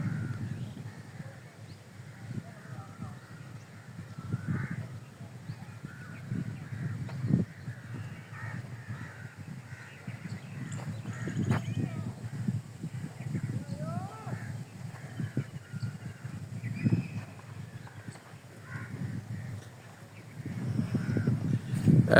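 Crows caw intermittently from a distance beside a canal near the Chenab in rural Punjab, sharp calls scattered over steady outdoor background noise and low rumble.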